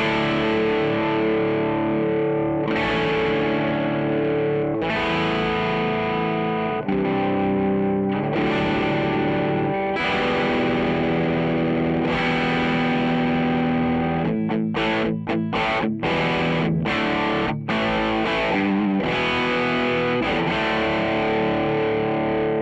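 An electric guitar, a Les Paul '57 Custom Shop with Fralin humbuckers, plays through a Deuce Coupe overdrive pedal, giving a driven, crunchy tone with sustained chords followed by quick choppy stabs near the end.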